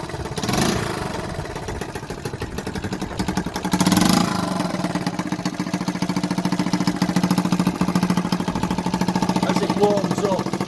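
A 1976 Honda CF70 Chaly motorcycle engine idles after being resealed, running a steady, close putter with a brief blip of revs, while someone talks over it.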